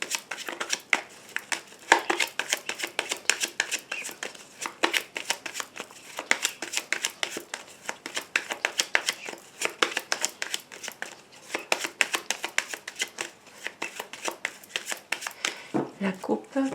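A tarot card deck being cut and shuffled up close, with a long run of rapid, crisp riffling and slapping card sounds that continues steadily while a person speaks over it.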